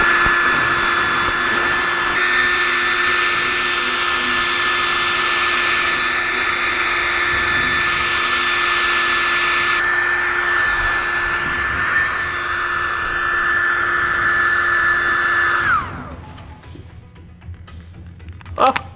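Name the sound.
hair dryer blowing hot air into a balloon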